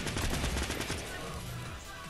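Rapid gunfire in Fortnite Battle Royale, with several quick bursts that sound like automatic fire, heard faintly and at a distance throughout a short stretch.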